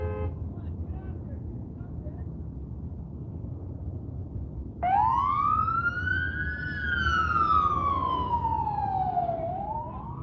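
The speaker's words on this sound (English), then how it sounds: "I see sirens down the street." Emergency vehicle siren wailing down the street near a traffic collision scene, entering suddenly midway and sweeping up and down in long tones over steady street noise, moderately distant.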